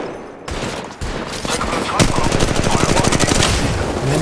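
Heavy automatic fire rattles through an Apex Legends Mobile firefight while the player takes hits, a loud, rapid stream of shots that builds and keeps going, with some voice faintly beneath.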